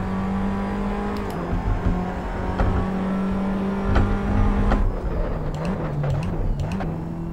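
A Tatuus race car laps a racetrack in Assetto Corsa, its engine whining steadily at high revs, dipping and climbing through gear shifts, with brief clicks and a rougher, fluctuating stretch toward the end.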